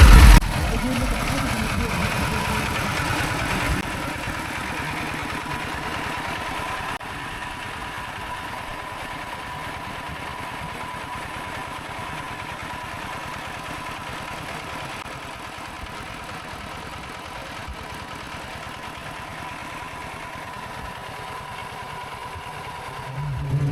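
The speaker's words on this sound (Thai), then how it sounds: "พามาเบิ่งเครื่องปั่นไฟ" A small portable electric generator runs steadily and loud up close, a continuous chugging drone with a brief louder burst at the start.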